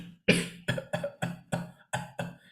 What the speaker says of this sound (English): like when we cough